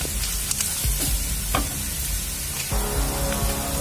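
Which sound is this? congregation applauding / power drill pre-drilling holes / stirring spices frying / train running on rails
stirring spices frying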